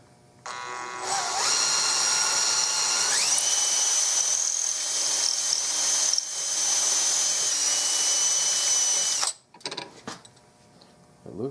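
A power drill runs continuously for about eight seconds, whining as it bores screw holes in an old 2006-restored Winchester gallery gun rifle, its pitch rising as it speeds up, then cuts off into quiet handling noise.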